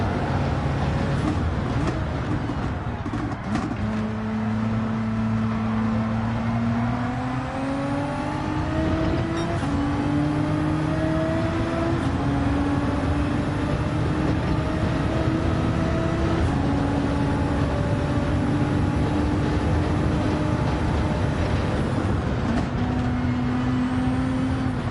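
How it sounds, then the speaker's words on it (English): A Suzuki VGT race car with a Hayabusa engine screams through the gears in Gran Turismo 7, a loud, constant high-revving wail that climbs in pitch with each gear, dips at shifts and stays close and unbroken throughout. "Suzuki is really loud, the Suzuki VGT. That thing is running on a Hayabusa."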